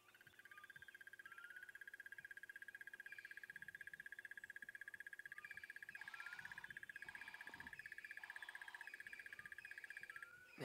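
A rapid, steady series of rhythmic clicking croaks from a crested barbet, sustained for several seconds over a quiet outdoor background.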